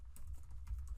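Rapid keystrokes on a computer keyboard entering an npm install command in a terminal, a short quiet burst of close, crisp clicks with no speech.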